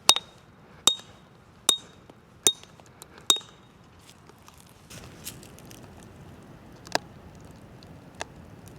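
Five sharp, ringing metallic strikes of a hammer on a log being split, evenly spaced and loud at first, then scattered fainter knocks and clinks over quiet outdoor background on an off-grid homestead.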